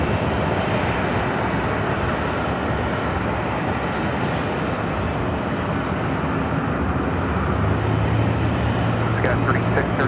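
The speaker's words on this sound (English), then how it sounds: "It's a Delta 757. That was a flight coming in from Atlanta" A Delta Boeing 757 arriving from Atlanta rolls toward Terminal 2 at LAX, its jet engines a loud, steady broadband roar filling the whole stretch, with faint radio chatter near the end.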